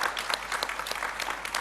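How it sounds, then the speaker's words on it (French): A short burst of steady applause from an audience at a forum session on demographics and urbanization, dense claps in a room, moderately loud with no talk over it. "Je crois qu'il faut l'applaudir."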